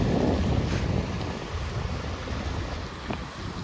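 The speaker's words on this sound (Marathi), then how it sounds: "पाण्याचा प्रवाह बघू शकता इथे किती वेगाने पाणी जातं." Fast-flowing river water rushing past, a steady loud broadband roar with wind buffeting the microphone throughout, no voices.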